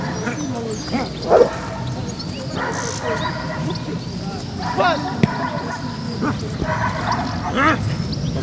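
A service dog barks repeatedly in short bursts, close and loud, amid a handler's commands and other people talking nearby.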